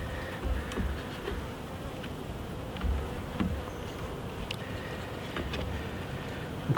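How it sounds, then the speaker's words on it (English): Honeybees drone in a steady, dense buzz around an open hive after a queen is released, close and continuous, with a few faint ticks and knocks and no voices. "And see what the bees are doing, they're just licking her, look."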